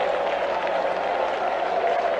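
Fenway Park crowd at a 1969 Athletics versus Red Sox game giving a steady, dense round of applause, a continuous wash of many hands clapping heard from a distance without break.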